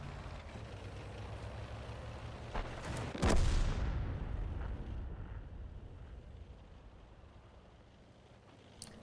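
A tank cannon fires once in a video game, a single loud boom that decays into a long rumbling tail over steady low engine noise.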